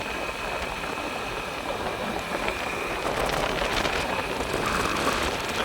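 Suzuki Hayabusa motorcycle engine running on a ride in rainy weather, a steady broadband rumble and rush that holds level throughout and swells slightly toward the end, with no talk.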